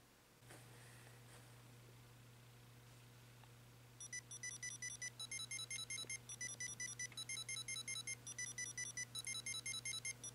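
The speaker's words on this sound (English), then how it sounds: "And that is the alarm sounds." A Game & Watch Balloon Fight handheld game's alarm goes off: after a few seconds of quiet hum, faint, high electronic beeps start and repeat in rapid, regular bursts.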